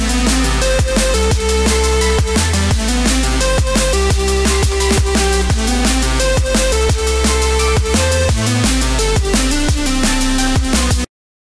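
A loud, dense electronic dance track drop pounds along with heavy bass and driving beats, then cuts off abruptly at the end.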